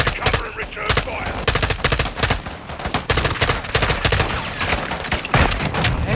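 Dense automatic gunfire in Call of Duty Modern Warfare, loud continuous bursts of rifle fire with rapid rattling shots and short pauses, heavy and close throughout.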